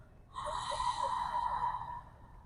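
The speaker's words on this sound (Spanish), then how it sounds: "ahora vamos a expirar por la boca haciendo ruido." Audible exhale pushed out through the mouth during yoga breathing, a single steady breathy rush with a slight throat friction, close and moderately loud, lasting about two seconds with no talking.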